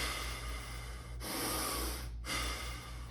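A person breathes out hard through the nose after running sprints. Two close, forceful nasal exhalations sound alone, with a brief pause between them.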